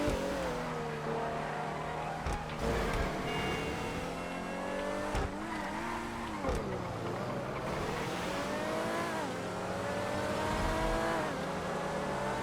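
Race car engines roar continuously during a GTA FiveM video game race, with loud revving that rises and falls across gear changes and brief tire squeals, all close and dense.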